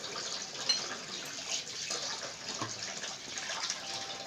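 Water splashes from a large glass into a pot of sugar while making gulab jamun syrup, a soft steady pouring and trickling heard close and alone.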